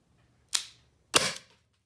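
Umarex HDS T4E pistol fired into ballistic gelatin, two sharp, close pops about half a second apart, each with a short decaying tail, against a quiet background.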